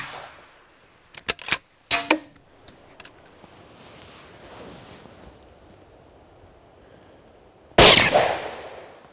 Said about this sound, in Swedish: Det vi kommer visa nu, det är ett stillastående skott, ett löpskott.